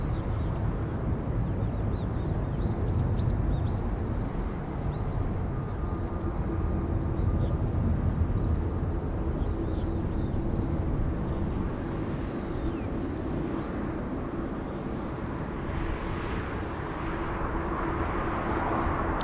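A Cathay Pacific airliner at Incheon Airport in Seoul rumbles steadily with a broad, continuous engine roar that holds loud and close for the whole stretch, slowly shifting in tone as it passes, with no talk over it.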